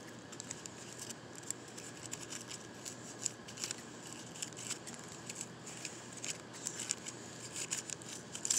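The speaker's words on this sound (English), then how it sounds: "Now we're just going to trim off the top." Scissors snip through the spiky top leaves of a pineapple, a string of quiet, irregular crisp cuts heard close by with no talking over them.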